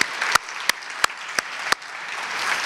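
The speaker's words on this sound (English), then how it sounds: "just another round of applause for all of these folks" Audience applause at a Columbia startup event, a steady wash of clapping with a few sharp, regularly spaced loud claps standing out close to the microphone.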